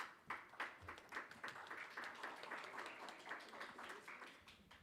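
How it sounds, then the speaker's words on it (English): An audience at a research colloquium panel in a New Delhi hotel ballroom gives a round of applause: steady, fairly quiet clapping from many hands, continuous throughout with no voices over it. "Please give her a round of applause as I get to the next panelist."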